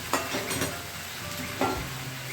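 Chicken pieces sizzle steadily in a hot pan for a chili-charred chicken dish, with a couple of sharp stirring scrapes cutting through the close, continuous frying hiss.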